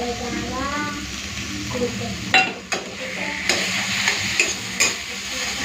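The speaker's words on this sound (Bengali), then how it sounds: "ভালো করে মিশিয়ে নিই তারপরে পুরো লাল করে ভেজে নেব" Cabbage and shrimp paste are stirred and fried in a pan, with a steady sizzle, spatula scrapes and several sharp clinks against the pot, while someone speaks at the start.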